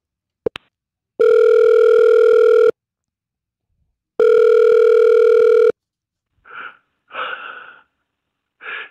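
A telephone from the horror film Longlegs gives a click, then two long steady dial tones separated by a pause, followed by several short raspy breaths or wheezes.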